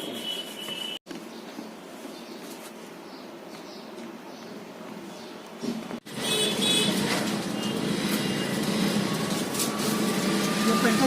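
Busy highway traffic on a road diverted below Tatya Tope Nagar, a steady broadband roar of passing vehicles that grows louder and denser after a brief cutout, with a person talking over it.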